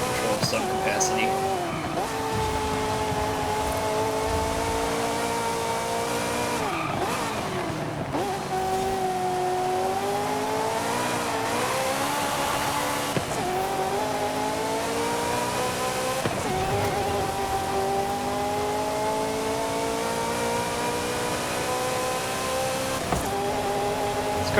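A 1984 Ferrari 288 GTO engine drones steadily in a Forza Horizon 5 road drive, its pitch rising and falling through gear changes over the full stretch, with a voice talking over it throughout.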